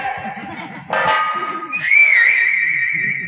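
Audience members whistle during a nautanki folk theatre performance: a loud, sustained whistle with a wavering pitch rises over a murmur of voices and crowd noise.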